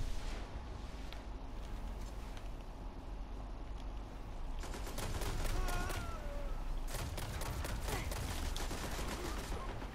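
Sustained auto rifle fire in Destiny, the DIS 47 long-range auto rifle, a dense continuous rattle of shots over a busy battle din, loud and steady throughout.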